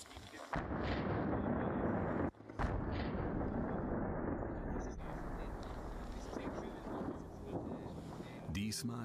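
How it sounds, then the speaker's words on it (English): An explosive detonation high in snowy mountains during German army mountain guide training sets off an avalanche: a loud broadband blast, then a heavy, sustained roaring rumble that continues almost to the end. "This time the detonation has more effect."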